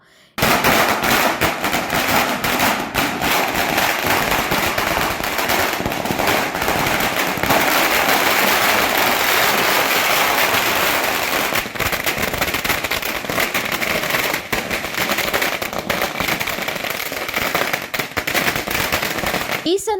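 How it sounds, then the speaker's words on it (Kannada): Firecrackers burst in a continuous, rapid crackling barrage for about twenty seconds at a political celebration in Chikodi, the pops loud and dense with barely a pause. "ಪಟಾಕಿ ಸಿಡಿಸಿ ಸಂಭ್ರಮಿಸಿದರು"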